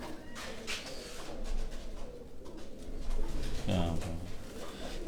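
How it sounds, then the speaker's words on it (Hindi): Male pigeon cooing softly in a pigeon-flying setting, low repeated coos mixed with background voices talking nearby. "उनके हाथ में जो आप कबूतर देख रहे हैं ये नर कबूतर है"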